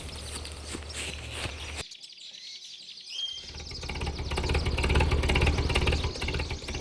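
A tractor engine idles and then revs up, a low steady chugging that swells louder after a brief quiet gap, with birds chirping faintly alongside.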